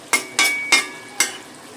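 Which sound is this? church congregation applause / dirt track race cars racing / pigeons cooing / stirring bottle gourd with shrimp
stirring bottle gourd with shrimp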